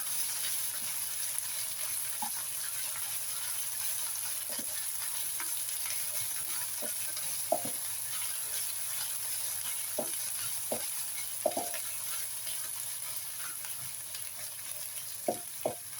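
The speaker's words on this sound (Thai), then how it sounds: "นี้เราจะมาผัดน้ำพริกแกงให้หอมๆเลยนะคะ" Red curry paste stir-fried in a pan for a spicy pork belly stir-fry: a steady bright sizzle throughout, punctuated by soft scraping taps of the spatula at irregular intervals, no talking.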